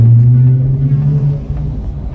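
Acura MDX Type S with an aftermarket exhaust rolling through a parking garage, a deep droning engine rumble with a low steady tone that slowly eases off, echoing and fairly loud.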